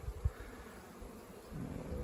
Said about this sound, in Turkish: Bu arılığa yeni gelen arılar biraz cazgır arkadaşlar